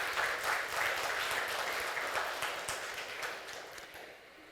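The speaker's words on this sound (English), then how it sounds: "You need to give them, please, a big round of applause." Audience applause after a Toastmasters-style youth leadership program in Jeddah, a steady wash of many hands clapping that holds fairly level before slowly thinning toward the end, with no talking over it.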